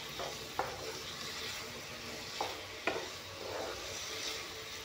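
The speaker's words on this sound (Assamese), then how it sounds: "এতিয়া এইখিনি অলপমান ভাজি ল'ম ধুনীয়াকৈ" Ginger, garlic and chili paste frying in a pan makes a soft, steady sizzle, punctuated by a few light clicks as a spatula stirs, fairly quiet overall.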